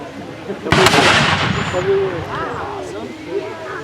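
A mortar bomb of almost 100 pounds explodes close by with a sharp, heavy boom that rolls off into a long rumbling decay, with voices reacting afterward.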